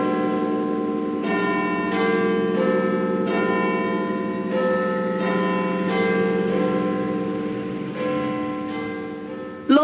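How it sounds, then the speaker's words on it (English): Big Ben, the great bell in London's clock tower, tolls the hour with several loud, evenly spaced strokes, each ringing on with a long humming decay over a steady outdoor city background. "Name Big Ben refers to the bell and not to the clock itself. It chimes on the hour."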